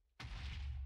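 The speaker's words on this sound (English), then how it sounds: "these things make giant explosions" A giant explosion goes off in a Minecraft Mineplex arcade game: silence, then a sudden loud booming burst with a heavy low rumble that sustains to the end of the brief moment.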